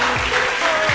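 An audience claps briefly, a short burst of dense applause close by.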